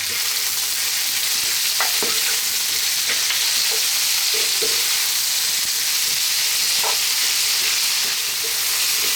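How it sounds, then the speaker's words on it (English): Potato pumpkin curry with ginger paste sizzles steadily in a frying pan over lively heat, a constant bright hiss broken by scattered scraping knocks of near-continuous stirring, alone with no talk. "Stirring pretty much all the time."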